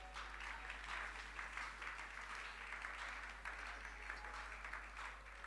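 A church congregation at a Sunday service applauding, a continuous dense wash of clapping from many hands, faint and somewhat distant, holding steady throughout.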